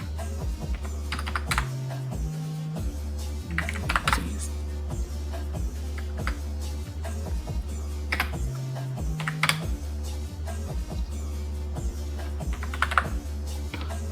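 Debit card number typed on a computer keyboard, a steady run of close, crisp key clicks at a quick uneven pace over a constant low hum, with no talking.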